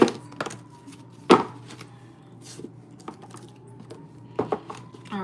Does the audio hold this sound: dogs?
no